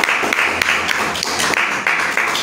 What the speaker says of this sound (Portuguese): E a salva de palmas, louve ao Senhor